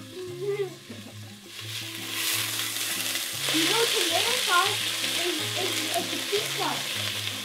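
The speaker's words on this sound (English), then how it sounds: "I just added the onion" Onion frying in a hot pot as the start of a chili, a close, continuous crackling sizzle that swells after a couple of seconds, with a person talking over it.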